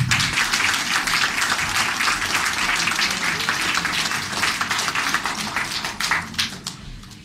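Audience applause greeting Polish actress Teresa Lipowska at a name-day celebration in Orońsko, a dense, steady crowd clapping that stays loud throughout and thins slightly near the end.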